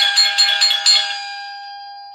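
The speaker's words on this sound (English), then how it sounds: "I hear the doorbell." A doorbell chimes close and loud in several quick ding strikes, its tone ringing out and fading, then one fresh strike at the very end.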